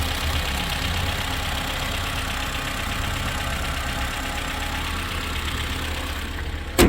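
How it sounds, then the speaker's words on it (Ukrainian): A used crossover's engine with 126 thousand on the clock idles smoothly under an open hood, a steady low hum throughout with no talk, ending in a brief bump. "Чисто м'яко працює, ніяких нарікань по двигуну немає"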